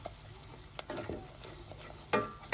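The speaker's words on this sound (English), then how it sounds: "We're going to put half a tablespoon of all-purpose flour in. We're going to stir this around." A spoon scrapes through flour and melted butter in a pan, with a light sizzle underneath and a few soft scraping strokes, close and quiet, with no talking.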